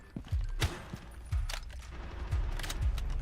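An automatic shotgun in Rainbow Six Siege fires a rapid string of about six punchy pellet blasts at an uneven, quick rhythm, close and fairly loud, with faint game noise between shots.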